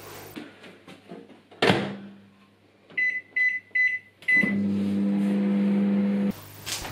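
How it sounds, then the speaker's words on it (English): A microwave's door clunks shut, a few short beeps sound, then the oven hums steadily until it stops, with a final click, while cooking a mincemeat Christmas pudding. "we microwave that for three minutes"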